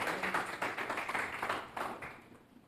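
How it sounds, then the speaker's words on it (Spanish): A church congregation at a Friday evangelical teaching service claps together in a steady run of hand claps that fades toward the end. "Dale un fuerte aplauso al Rey"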